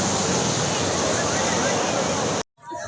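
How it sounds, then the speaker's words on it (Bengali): Sea waves roar on Kuakata beach at night as a loud, continuous broadband rush that breaks off abruptly just before the end. "সাগরের গর্জন শুনতে পাচ্ছেন"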